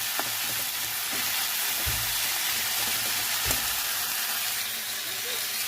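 Potatoes for aloo posto frying in a pan, a steady close broadband sizzle filling the whole stretch with a couple of soft knocks of a utensil against the pan, no voices.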